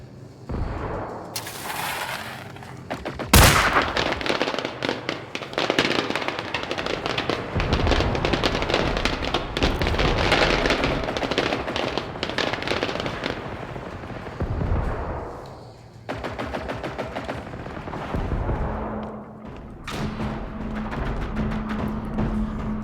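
Fireworks set off in the video game Generation Zero: a sharp bang, then a long dense run of crackling and popping bursts with booms, fading briefly before more rattling pops and a steady hum at the end.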